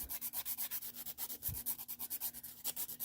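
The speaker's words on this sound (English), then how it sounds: "One, I use the coarse side, just like this, of my nail file." The coarse side of a nail file rasps over a builder gel nail in quick, even back-and-forth strokes, about twenty soft scratchy passes, close up and quiet, with no voices.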